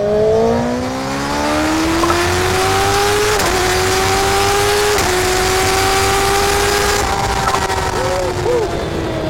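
A Kawasaki ZX6R motorcycle with its catalytic converter fitted, heard from the rider's position as a loud, continuous engine whine that climbs in pitch through the gears, with brief dips at each shift.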